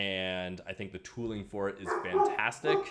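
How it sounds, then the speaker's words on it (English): A dog barks and yips in short, sharp bursts close by, overlapping with a voice as he keeps talking indoors. "And that's my dog."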